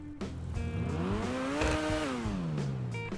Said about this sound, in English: now let's hear how the car sounds.